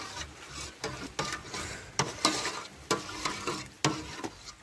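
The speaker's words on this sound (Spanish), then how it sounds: "Ahí se revuelve hasta disolver la leche" A spoon stirs a milk mixture in a pot until it dissolves, giving repeated scraping, swishing strokes in a steady rhythm, close and fairly loud.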